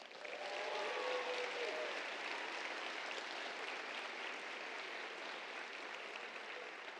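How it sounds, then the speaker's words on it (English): An audience at a Latino community talks event gives a long, even round of applause, a steady wash of many clapping hands heard from a distance and fairly quiet. "One more round of applause."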